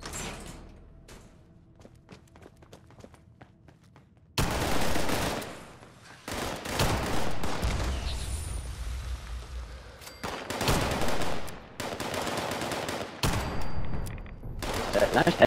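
Gunfire in Fallout 76: after a quiet stretch, loud bursts of rapid automatic fire and heavy shots come in several clusters separated by brief pauses, close and dominant.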